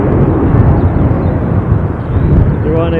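Ryanair jet at Dublin International Airport, a loud continuous broadband roar of engines filling the whole stretch, steady and close, with a rising whine appearing near the end.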